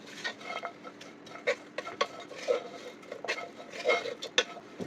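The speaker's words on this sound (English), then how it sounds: "I'm going to stir this around, mix everything together" Cilantro and dill salad being stirred and tossed in a bowl, giving soft scattered clinks and rustles at an irregular pace, fairly quiet.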